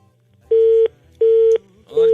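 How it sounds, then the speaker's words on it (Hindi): Telephone line tones as a caller's call drops on an FM radio phone-in show: three loud, identical steady beeps, each about a third of a second, evenly spaced and heard alone. "उस्मान की कॉल जो है वो ड्रॉप हो चुकी है"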